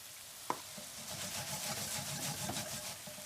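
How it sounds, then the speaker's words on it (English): Vegetables fry with butter in a pan, a steady close sizzle with soft stirring and scraping throughout, opening with one sharp clack. "What will really help this veg caramelize is adding some butter. And as the butter goes brown, it'll catch onto the veg"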